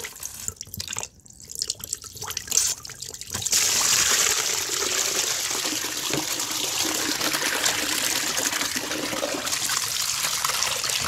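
Dirty water from a clogged kitchen sink drain pours steadily into a plastic tub under the sink, a loud continuous splashing rush that follows a few seconds of scattered drips and trickles.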